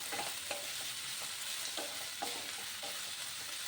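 Chopped onions frying in a pan for a dhaba-style tadka, with a continuous loud sizzle and regular scraping stirs of a spatula roughly every half second.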